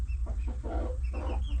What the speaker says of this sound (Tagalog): May binentang tandang sa akin si James.